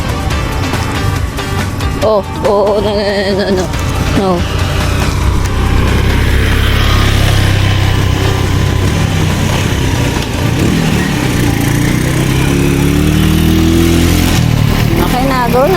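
A motorcycle engine drones and revs loudly as it passes near a riverside hot spring in Laguna, rising and falling in pitch with people talking over it.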